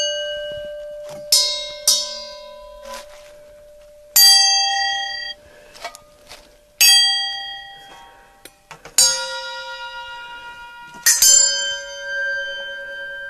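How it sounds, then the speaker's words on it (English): Assorted brass objects struck as improvised percussion ring out in separate bright metallic hits, some sharp clangs, others long shimmering bell-like tones decaying between strikes, close and clear with no talking. "You can get some great sounds with just hitting on brass objects."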